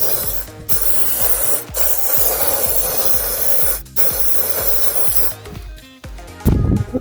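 WD-40 is sprayed onto the oxygen sensor of a 2015 Chevy Sonic LT in several steady hissing bursts, close and fairly loud, with brief gaps between them and a short clunk near the end.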